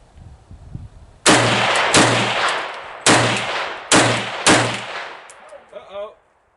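Loud, close gunfire from an AK-47 style rifle at an outdoor range, five sharp cracks spaced about a second apart, each with a short ringing tail, followed by a faint rattle.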